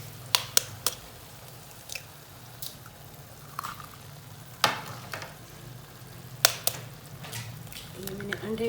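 Whole eggs fry with green onions in a pan, a steady low sizzle broken by sharp clicks and brief spatters, with a few louder bursts and some faint talk near the end.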